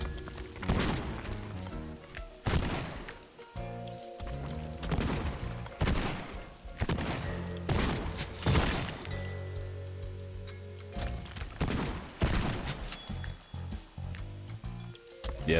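Heavy shotgun blasts in Borderlands 2 ring out one by one at irregular intervals, loud and close, separated by clinks, reload clatter and other game effects.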